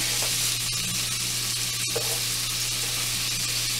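Cajun shrimp sizzling loudly in a hot pan while being flipped, a steady close frying hiss with a few soft scrapes and clicks of turning.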